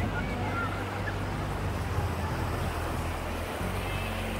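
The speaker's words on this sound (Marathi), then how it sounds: "हे जे पाणी येतं हे सरळ वरून वॉटरफॉलवरून खाली येतं आहे." Water pours down the Adai waterfall near Panvel at modest flow, a steady broadband rush that stays constant and fairly loud throughout, with no clear voices over it.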